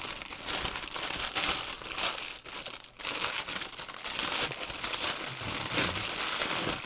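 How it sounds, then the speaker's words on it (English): Plastic bag crinkling and rustling continuously up close while a fishing reel and rod combo is unboxed, with a brief pause midway. "It's in a plastic bag."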